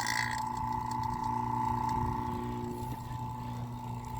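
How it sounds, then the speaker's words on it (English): A vacuum pump runs steadily while evacuating a mini split heat pump line set, giving a continuous motor drone with a strong steady hum and faint mechanical rattle, close and unchanging throughout. "And so I'm going to go ahead and turn on this vacuum pump."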